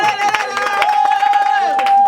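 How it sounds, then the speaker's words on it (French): A crowd at a charity donation event for an orphanage breaks into clapping and cheering, a dense patter of hands under a loud amplified voice and a steady high tone. "Est-ce qu'on peut applaudir Madame Christelle Yaba?"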